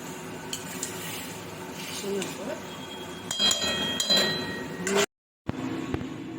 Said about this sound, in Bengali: আলুর সাথে মশলাগুলো ভালো করে কষে নেব এতে আলুটাও শুকিয়ে যাবে মশলাটাও কষে যাবে